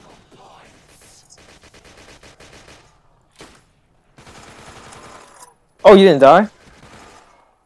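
Gunfire in a Roblox zombie game: one loud, close double burst of rapid shots rises above quieter game noise, with a person talking before and after.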